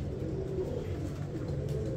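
High-flyer pigeons in a Punjab loft coo softly in a low, continuous murmur under dense background noise.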